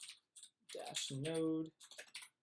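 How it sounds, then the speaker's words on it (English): Command typed on a computer keyboard, with quick bursts of key clicks at the start and end around a stretch of nearby speech. "in order to run these tests, you have to type in jasmine-node"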